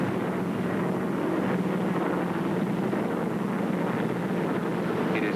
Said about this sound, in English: pilot of the tug, now on its base leg, increases RPM to 2550